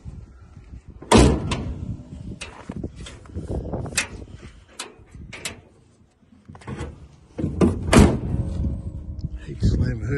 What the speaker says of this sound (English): I hate to slam the hood too hard.